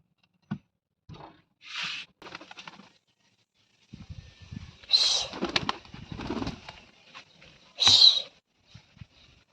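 Pigeons in a home coop coo softly and intermittently at close range, with a few sharp bursts and light rustling between the calls.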